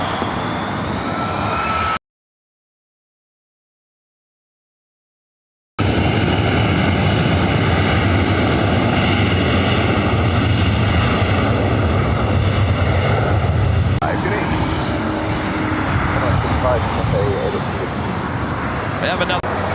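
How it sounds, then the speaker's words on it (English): An Air Canada Boeing 737 MAX 8 jet airliner roars loudly and steadily at LAX, with a heavy engine rumble that keeps going after a short dropout. The rumble holds throughout. "We have another Air Canada 737 MAX 8 coming in from Vancouver."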